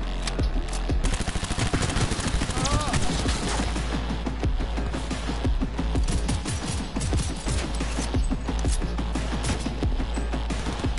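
Rapid automatic fire from a submachine gun in the Cyberpunk video game: dense, continuous bursts of sharp shots with mechanical clatter, loud and close throughout.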